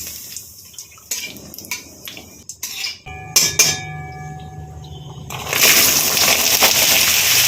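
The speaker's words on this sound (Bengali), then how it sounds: "তেল গরম করে এর মধ্যে জিরে শুকনো লঙ্কা তেজপাতা ফোড়নে দিলাম" Cumin seeds, dried chillies and bay leaves hit hot oil in a wok on a gas stove. A few sharp metal clinks and taps come first, then a loud, steady hissing sizzle sets in close by, with no voices.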